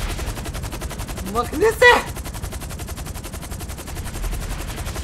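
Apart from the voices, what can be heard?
gunfire in the video game GTA V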